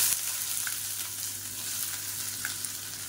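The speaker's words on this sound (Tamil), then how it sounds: "இப்போ எண்ணெய் நல்லா சூடாயிருச்சு. ஒரு கைப்பிடி அளவுக்கு பொடியாக நறுக்குன்னா பெரிய வெங்காயம் சேர்த்துக்கலாம்." Finely chopped large onion sizzles in hot oil, giving a soft, steady crackling hiss with occasional tiny pops, fairly faint and continuous, with no voices.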